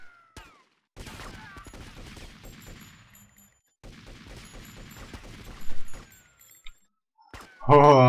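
Rapid gunfire in a gang-war shootout in the video game GTA Vice City, with dense bursts of shots that pause briefly and then resume, ending in a sharp loud burst near the end.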